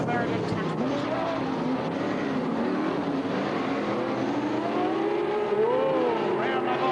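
Super Sedan race cars roaring around Yandina Speedway in 1998, a continuous loud engine drone with rising and falling revs as cars pass, under a race commentator's voice.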